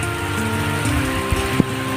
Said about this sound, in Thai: โอ้ฝนตกเลยนี่